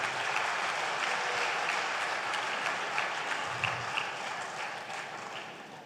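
Applause from an audience at a Brahmin community global meet, a dense steady patter of many hands clapping at moderate distance, continuing without talk over it.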